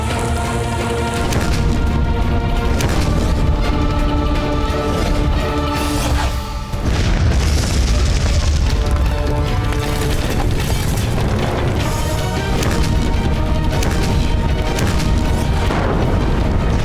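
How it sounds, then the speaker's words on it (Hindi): Cannon fire during a battle in a Mughal-era TV serial about Maharana Pratap at Chittor, with loud, booming blasts over a dense rumbling din and dramatic music. "देखिए कैसे आग उगल रही हैं अकबर की तोपें"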